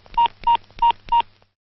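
Four evenly spaced touch-tone beeps ring out as a telephone is dialed in a Telugu dubbed film scene, crisp and loud with no voices.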